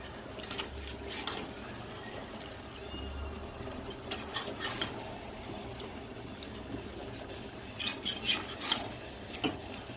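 Browned meat that has started releasing its oil is stirred in a cooking pot with a metal utensil, giving soft, irregular scrapes and clinks against the pot over a low background hum.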